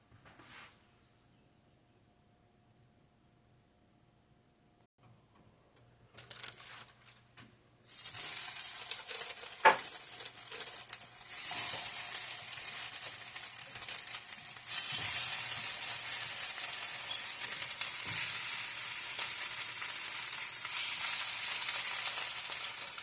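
Six pieces of sausage frying in a pan, starting quiet with a few clinks, then a loud steady sizzle and crackle that swells further midway and continues without talk.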